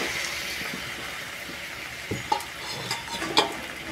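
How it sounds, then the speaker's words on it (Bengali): Boiled, peeled taro pieces with turmeric and salt fry in a pan, giving a soft ongoing sizzle with several sharper scraping stirs and a light metallic clink toward the end. "কচুগুলো ঢেলে দিয়ে এবার আমি নেড়ে চেড়ে ভেজে নেব।"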